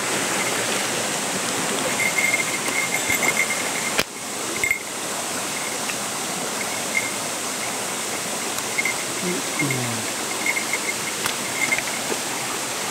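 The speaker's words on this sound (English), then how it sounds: "Very pretty waterfall, I'm sure." A waterfall in Japan, running low, gives a steady broadband rush close by, with a brief knock partway through and faint insect chirps in the background.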